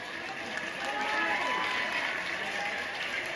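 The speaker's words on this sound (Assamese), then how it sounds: "এই যে হাত চাপৰিটো বজাইছে মোৰ কথাত আপোনালোকে হাত চাপৰিটো বজাইছে" An audience at an Assamese comedy performance claps in a faint, steady patter that swells slightly after the first second and holds, heard from a distance.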